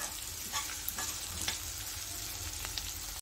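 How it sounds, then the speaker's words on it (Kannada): Onions sizzle in a tempering for avalakki chitranna as turmeric is mixed in, with a spoon scraping and stirring against the pan at irregular moments over a steady frying hiss. "ಇಲ್ಲಿ ಈರುಳ್ಳಿನ ಚೆನ್ನಾಗಿ ಬಾಡಿಸ್ಕೋಬೇಕಾಗುತ್ತೆ."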